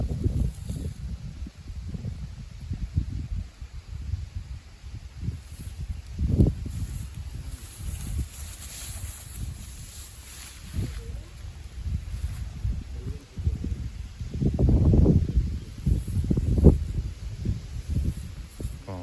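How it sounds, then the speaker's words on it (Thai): Strong wind buffets across an open rice field in rumbling, uneven gusts that swell and fade, loud and close with no voices. "นี่ก็ลมแรงครับ อยู่ในกลางทุ่งนาครับ"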